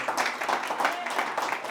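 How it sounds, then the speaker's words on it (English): An audience at a fireside chat applauds, a dense, steady round of clapping from many hands that stays fairly loud and close throughout. "Round of applause."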